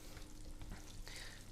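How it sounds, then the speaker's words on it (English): Potato dough starts frying in a pan with a soft, steady sizzle and faint crackle, close by and quiet, with a brief stir near the end. "Start frying it."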